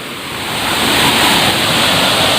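Water from a waterfall rushes down in a dense, continuous roar close by, steady and loud throughout with no voices.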